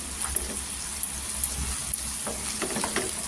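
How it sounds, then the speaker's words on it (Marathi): Onions browning to golden in a pan for potato bhaji give a steady close sizzle with light stirring scrapes, moderately quiet and without talk. "आता इथे आहे ना कांदा पण छान असा गोल्डन कलर करून घ्यायचा"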